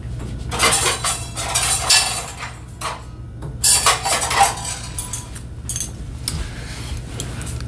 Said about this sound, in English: I'm gonna go get a knife to spread some stuff on my bread.